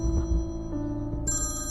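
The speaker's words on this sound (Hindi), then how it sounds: "वो हॉस्पिटल में भी तो फोन कर रही थी, जरूर कोई इंपॉर्टेंट बात होगी। उठा लो।" A phone rings in a hospital drama scene, with a bright electronic tone cutting in near the end over a steady musical background; no one speaks.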